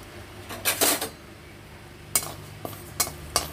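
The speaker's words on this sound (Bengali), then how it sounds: "কড়াইয়ে হালকা করে আমি ডালটা ভেজে নেব।" Dal dry-roasts in a kadai, with sharp metallic scrapes and clinks of a spatula against the pan in a few separate bursts over a quiet background.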